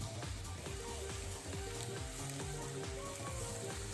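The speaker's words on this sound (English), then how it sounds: "Before boiled, frying chicken bring out umami of it." Cut chicken pieces fry in a pan for Japanese curry, giving a steady, close sizzle with soft scraping stirs and small pops throughout.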